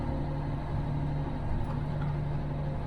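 A classic Peterbilt 359 semi truck with a fully mechanical engine picking up throttle on cruise control, a steady low diesel rumble and hum heard from inside the cab, continuous with no talk.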